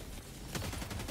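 Rapid gunfire in the video game Helldivers 2, a dense burst of repeated shots that swells partway through, loud and continuous with no talking.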